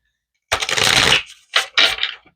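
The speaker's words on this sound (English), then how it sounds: "let's give this a couple of good shuffles" Tarot cards being shuffled up close with no talk: one long riffling burst, a short pause, then two quicker shuffles.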